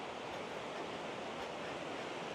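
A flowing creek at a Collegiate Peaks campground in Buena Vista, Colorado, a steady broadband rush of water heard fairly close, with no voices.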